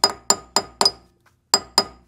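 A ball peen hammer taps sharply around the edge of a rear brake disc on a Renault Scenic 3. About seven close, ringing metallic strikes fall in an even rhythm, with one quick double hit and a short pause before the last two.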